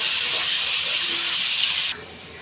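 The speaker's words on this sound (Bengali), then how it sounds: "এবার জল দিয়ে দেবো" Water poured into a hot pan of spiced, sautéed potatoes, a loud hissing steam burst sustained close up for about two seconds, then dropping abruptly to a softer simmer.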